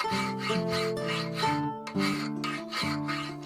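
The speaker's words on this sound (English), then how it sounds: "Now I'm shaping the profile of the blade with files." Steady back-and-forth strokes of hand files rasp across a forged Finnish puukko knife blade, close and rhythmic with brief pauses between passes and no talking.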